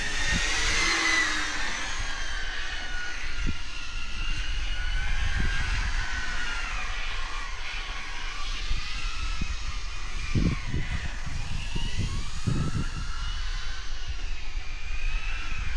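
An SNRC S86GT V2 radio-controlled car, apparently on GRP XM2 tyres, drives laps to warm its tyres, giving a steady high electric whine that rises and falls with speed, alongside bursts of low rumble and wind.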